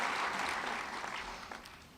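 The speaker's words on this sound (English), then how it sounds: "Can we have a round of applause?" Graduates at the Albuquerque Academy commencement receive a brief burst of crowd applause, dense clapping that starts full and slowly tapers over two seconds.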